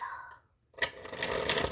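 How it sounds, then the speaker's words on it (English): Tarot cards being shuffled: a short riffle, then a pause, followed by a longer, dense run of crisp card flutters close to the listener. "I can like shuffle all day sometimes"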